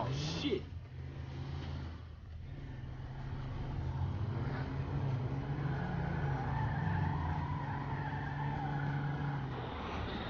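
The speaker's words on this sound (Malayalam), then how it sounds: "അപ്പോൾ നമ്മുടെ കാറിൻ്റെ ഫ്രണ്ട് വീല് ഇടിച്ചിട്ട് അവിടെ ജാമായിട്ടുണ്ട്" In the video game GTA 5, a car skids and its engine strains after a crash that jams the front wheel, a steady whining motor with tyre noise, fairly faint.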